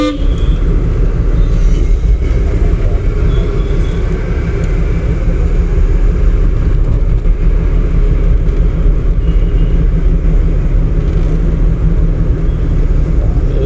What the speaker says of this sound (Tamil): வண்டி ஸ்மூத்தாக போயிட்டு இருக்கு